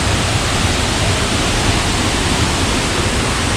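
Kadiyallena waterfall in Sri Lanka roars steadily as a dense, continuous rush of falling water, loud and close, with no break and no voices over it.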